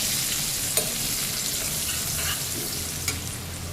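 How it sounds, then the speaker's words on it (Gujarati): Garlic cloves fry in hot oil with cumin and asafoetida, giving a steady close sizzle with occasional stirring scrapes and a couple of small clicks. "લસણને 2 મિનિટ શેકવા દેવાનું."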